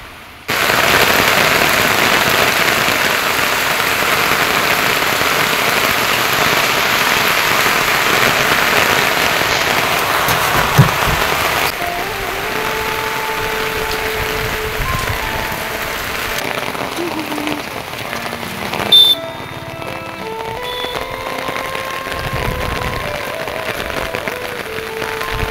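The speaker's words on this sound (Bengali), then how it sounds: "তো দেখতে দেখতে বৃষ্টিটা জোরে চালু হয়ে গেলো" Heavy rain pours steadily, a dense close hiss of drops striking surfaces, easing slightly partway through, with a few sharp knocks and faint background sounds.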